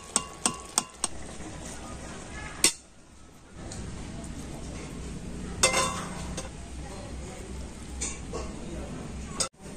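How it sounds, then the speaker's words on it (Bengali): Boondi being scooped out of hot sugar syrup with a metal strainer, giving a few sharp clinks against the pan, then a steady soft bubbling and stirring background with occasional louder clatters. "আর এবার আমি এইভাবে ছেঁকে ছেঁকে তুলে নেব।"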